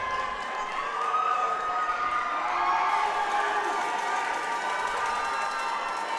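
Spectators at a collegiate 3D archery national championship cheer and shout continuously, a dense, sustained crowd roar with whoops and children's voices, steady and fairly loud throughout.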